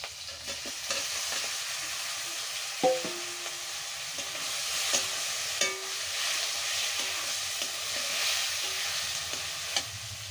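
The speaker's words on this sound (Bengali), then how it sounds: "এবার আমি কচুর গাঠিটা দিয়ে দিচ্ছি" Taro corms tipped into hot spiced oil in a village kitchen pan, sizzling steadily throughout, with scraping stirs and occasional sharp clicks of a spatula against the pan.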